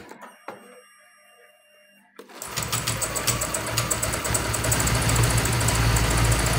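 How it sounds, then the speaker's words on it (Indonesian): A Honda Vario Techno 125 scooter engine starts after a few clicks and runs with a steady, rattling mechanical whir and a rhythmic knocking from a faulty water pump. "water pump suaranya bunyi pada bagian water pumpnya, pada saat motor dinyalakan."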